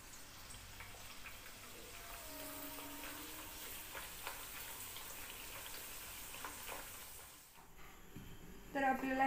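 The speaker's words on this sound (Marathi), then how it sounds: "इकडे आपण पुऱ्या ज्या आहेत त्या आपण एक एक करून तळून घेऊ" Puris deep-frying one by one in hot oil, a steady low bubbling sizzle running throughout, with a louder burst of frying near the end.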